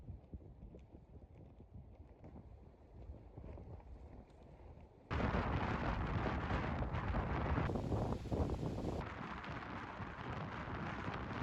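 Strong wind at a lagoon used for kitesurfing roars against the microphone, moderate at first, then jumping to a much louder, steady rush for the remainder.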